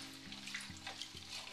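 Chicken pieces stir-fried in moderately hot oil in a wok for kung pao chicken, giving a steady close sizzle with scraping stirs, alone without talk.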